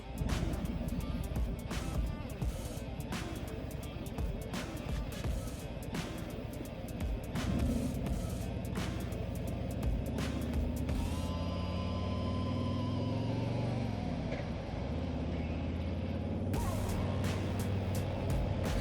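Steady low engine drone from a 2024 Harley-Davidson Road Glide Limited with a Milwaukee 8 engine pulling away and cruising smoothly, with wind and road noise over the rumble and a rise and fall in pitch as it shifts.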